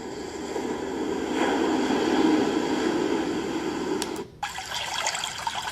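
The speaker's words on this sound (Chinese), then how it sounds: "这是风加水声。" Steady white-noise blend of wind and water, a dense, even rush that holds at a constant level, briefly drops out near the end, then resumes slightly thinner.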